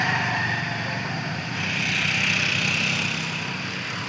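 A motorcycle engine runs steadily nearby as a learner rides on an open ground below Gokarna, a constant buzzing drone that swells slightly mid-way.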